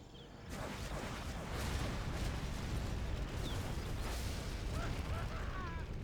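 RPG rockets fire and explode in a multiplayer strategy video game battle, a dense roar of blasts and booms that builds after a quieter start and stays loud, with faint high-pitched effects above it.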